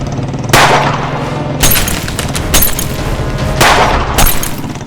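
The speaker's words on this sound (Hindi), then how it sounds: "यहाँ गोलियां चल रही हैं" Several sharp, loud gunshots crack out at irregular intervals, each a sudden broadband burst with a ringing tail, standing alone without speech.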